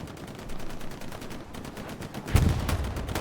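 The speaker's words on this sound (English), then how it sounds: "Because there is artillery dropping." Artillery shells falling during a Hell Let Loose match, rapid distant gunfire rattling throughout, then one heavier booming impact near the end.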